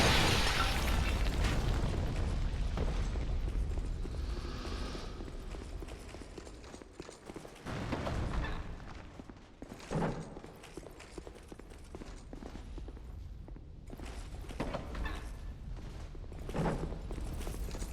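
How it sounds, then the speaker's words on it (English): Artillery firing in a Dark Souls II boss room: repeated heavy booming blasts at irregular intervals, one loud near impact early and several duller thuds later, over a rumbling ambient background. "This is the artillery that's in the boss room, by the way."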